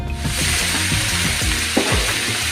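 Mixed vegetables, pumpkin, cauliflower, long beans, cabbage, flat beans, beetroot and pointed gourd, hit hot oil with bay leaf and dried chilli, giving a loud, dense, continuous sizzle with a few clunks of a spoon against the pan.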